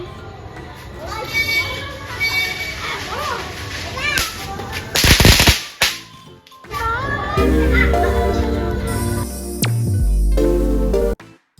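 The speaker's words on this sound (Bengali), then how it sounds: "তো তোমরা বাজি ফাটানোটা দেখতেই থাকো কি করে এরা" Firecrackers burst on Durga Puja Navami night amid a lively crowd of children, with sharp loud cracks and a bright hissing burst midway, followed by sustained sparkling crackle and shouting voices.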